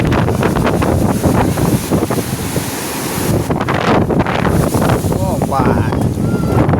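Sea waves roar and crash loudly along the shore at Diu, a dense continuous surge with wind buffeting the microphone and voices talking over it.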